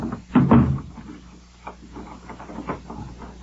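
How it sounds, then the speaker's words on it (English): A door is shut and locked with a solid thump, then the latch and bolt are worked, leaving a few quieter clicks and rattles in a hushed room, with no speech. "Lock the door."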